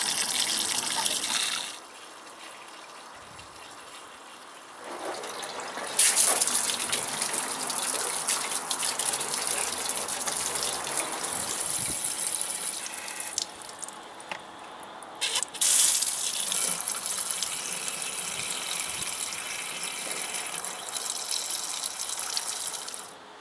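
Water gushes steadily through the radiator filler of a Kawasaki Z1000 during a coolant change, a close hissing flow that stops briefly and restarts twice, with occasional drips and clinks.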